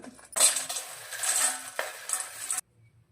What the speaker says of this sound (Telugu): ఒక బౌల్ తీసుకొని ఇందులో మనం వేంపుకొని పక్కన ఉంచిన కార్న్ఫ్లేక్స్ను వేసుకుంటున్నా